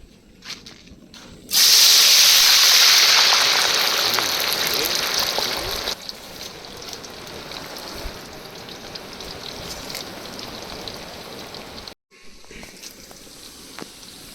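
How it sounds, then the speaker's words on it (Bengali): Green banana slices dropped into hot oil in a wok burst into a loud, bright sizzling hiss that settles into a steady crackling fry, with a brief pause near the end before the bubbling resumes. "তেলটা দেখেন পারফেক্ট গরম হয়েছে, এখন চিপসটা উল্টা পাল্টা ভালো করে ভাইজা নিতে হইব।"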